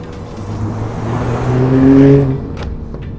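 A Toyota GR Supra's straight-six engine revs up, its tone rising to a loud, smooth howl before easing off, heard up close with no talking.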